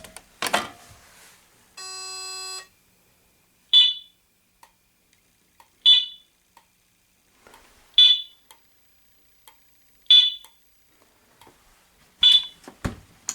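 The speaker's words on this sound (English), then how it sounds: "First stage is going to be a short beep every so often." Fire alarm system in its first stage during a test, sounding short beeps every two seconds or so, five crisp, moderately loud chirps in a regular rhythm after a brief handling clatter and a steady electronic tone, with silence between.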